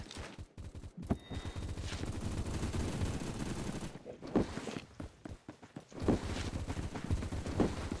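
Gunfire from a scoped pistol in the Roblox first-person shooter Phantom Forces, heard as bursts of sharp cracks among other distant and nearby shots, with brief pauses between volleys and no talking.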